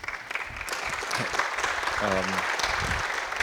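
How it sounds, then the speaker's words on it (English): Audience applause at an agriculture event, a steady wash of clapping filling the room alongside some crowd noise. "round of applause."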